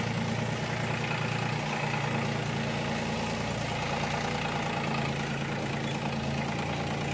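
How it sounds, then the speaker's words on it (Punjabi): A John Deere farm tractor's diesel engine runs with a steady, close, low rumble throughout, with no talking over it and little change in pitch. "ਸਭ ਤੋਂ ਪਹਿਲਾਂ ਥੋੜਾ ਜਿਹਾ ਟਰੈਕਟਰ ਨੂੰ ਅੱਗੇ ਤੋਰ ਕੇ ਫਿਰ ਆਪਾਂ ਬੈਕ ਕਰਦੇ ਹਾਂ"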